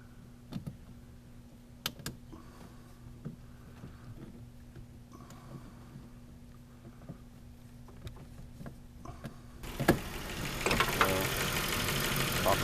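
A car engine cranks and catches to a low steady idle hum, preceded by a few sharp clicks and knocks, then rises into louder, denser running noise near the end, with no one speaking.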